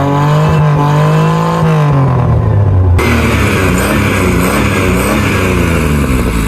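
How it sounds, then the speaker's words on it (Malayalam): Modified 1995 Maruti 800 engine running with its exhaust valve open, a loud close rumble that revs and drops, then settles into a raspy, throbbing idle. "ഇനി വാൾവ് ഓപ്പൺ ചെയ്തിട്ടുള്ള സൗണ്ട് കാണിച്ചു തരാം."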